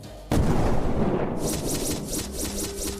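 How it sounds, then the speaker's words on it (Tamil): A sudden heavy explosion blast used as a sound effect in a narrated story, a deep booming roar that rumbles on with crackling debris for a few seconds. "பேய்க்குரங்கின் உடல் 2 மடங்கு பெரிதாகி பெரிய வெடிப்பு சத்தத்துடன் வெடித்தது"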